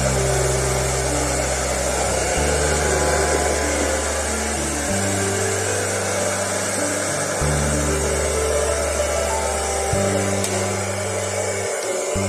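A hair dryer blows steadily on freshly dyed hair, a loud continuous whooshing drone held without a break, with a low hum shifting in the background.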